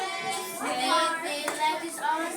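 Children in a classroom clap their hands together in a short, lively burst of applause, mixed with a few young voices close by.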